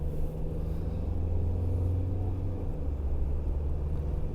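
A car on the road, half throttle, climbing from about 70 to 100 km/h, its engine a steady low droning rumble with road noise, even and continuous throughout.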